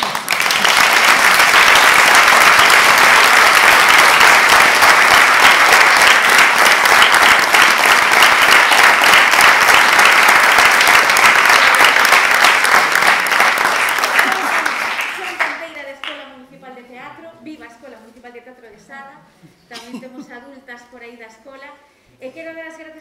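Theatre audience at a staging of La dama del alba applauding, a loud dense roar of clapping that holds for about fifteen seconds, then thins out as a voice begins speaking over the last scattered claps.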